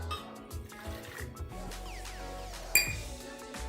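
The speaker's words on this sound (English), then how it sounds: "So I'm gonna add the harder rooted herbs like the ginger and the onion in first, along with some 1/3 cup of vinegar." Ginger, onion and vinegar being added to a container for a green seasoning blend: soft clinks, a sharp ping and a brief splash of poured liquid, close by and fairly quiet.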